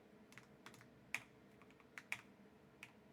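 Sparse keystrokes on a computer keyboard while working in estimating software, a handful of quiet separate taps with pauses between them, faint and alone.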